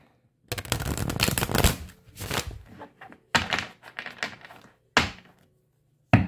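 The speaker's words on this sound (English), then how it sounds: "One more shuffle." Several bursts of riffling cards as a tarot deck is shuffled, brisk rustling flurries separated by short pauses, close up.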